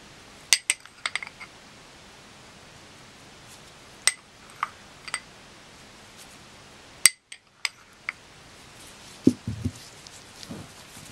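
A metal utensil clinks sparsely against a pot as flour is stirred into a Japanese yosenabe hot pot, with quiet, isolated taps and clicks separated by near silence.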